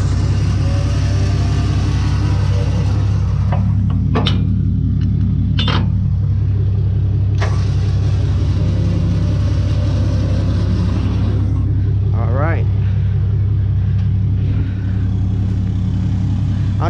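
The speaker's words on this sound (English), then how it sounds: "I can find out whenever the winch starts pulling it." A winch drags a heavy dumpster onto a gooseneck roll-off dump trailer on grass, a loud, steady low engine-and-hydraulic drone running throughout, broken by a few sharp clanks and a brief squeal.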